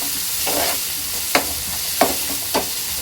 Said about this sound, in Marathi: 3 ते 4 मिनिटांनंतर आपला कांदा चांगला ब्राऊन होत चाललेला आहे।